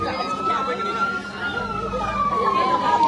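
A fire truck siren wails as it arrives at a house fire in a crowded neighborhood, a rising and falling tone sweeping over the scene while people talk nearby.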